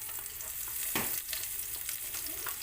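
Chopped green chili fries in hot oil with a pinch of asafoetida for dal, a steady close sizzle with a sharp burst of crackling near the start.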